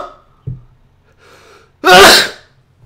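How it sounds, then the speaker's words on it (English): A single loud, close human sneeze with a short inhale before it, a player sneezing during a farming game session, otherwise near silence. "I'm gonna sneeze in a second."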